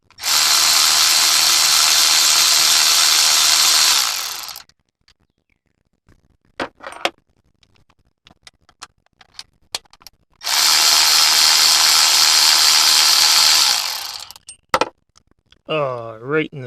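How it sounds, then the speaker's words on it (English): A power tool whirs loudly in two long bursts of about four seconds each while a Green Ranger action figure is taken apart, with light clicks and handling noises of the plastic toy between the bursts. "If you're panicking because I'm using a power tool, don't."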